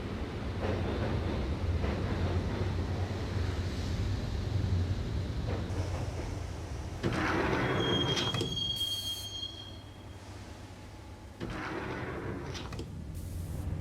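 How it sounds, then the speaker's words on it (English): Train ride in the video game Max Payne: a loud, steady rumble of a moving subway car with squealing wheels and shifting rattles, with no talk. "the train doors had already shut behind me, and I was in for the ride"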